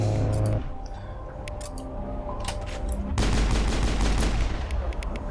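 Rapid gunfire in the video game Mass Effect, played on Insanity difficulty as an Engineer, with repeated sharp shots throughout that thicken into a louder, denser volley in the second half.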